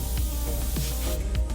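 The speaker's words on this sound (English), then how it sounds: "I got a fan spray air cap right now" Paint spray gun fitted with a fan spray air cap, giving a steady, loud, close hiss of spraying air that runs through the whole short burst.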